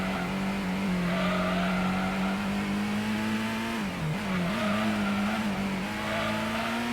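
Race cars in the PS1 game Gran Turismo, including a Supra, roaring steadily through a corner with a sustained engine drone and a long squealing slide as the revs dip and climb again.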